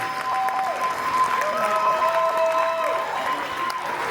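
Audience at a boogie woogie dance competition clapping loudly and steadily for the dancers on the floor, a continuous wash of applause with music tones still ringing underneath.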